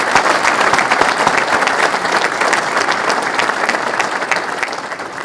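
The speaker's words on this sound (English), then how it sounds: "Let's give them another round of applause." Audience applause for sponsors at a golf professionals' association spring meeting, steady dense clapping from a crowded room, loud and sustained throughout with no talk over it.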